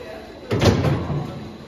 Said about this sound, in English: We seem to have shut the door on you.